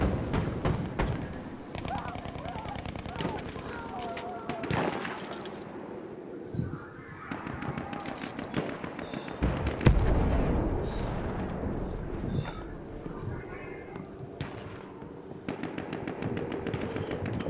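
Gunfire in Battlefield 1 multiplayer, bursts of rapid shots and heavier blasts scattered across a busy battle soundscape, some near and loud, others more distant, mixed with other game noise.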